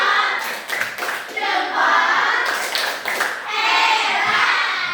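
A school class clapping together in a classroom, bursts of patterned rhythmic claps with children's voices mixed in, close and loud.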